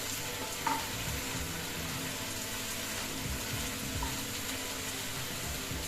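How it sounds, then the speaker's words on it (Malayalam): Brinjal and onion sizzle and crackle steadily in hot oil as they are stirred, a dense continuous frying hiss with a couple of faint clinks of the spoon against the pan. "കത്തിരിക്കയും ഉള്ളിയും കൂടെ ഈ എണ്ണയിൽ കിടന്നൊന്ന് വെന്ത് വരട്ടെ"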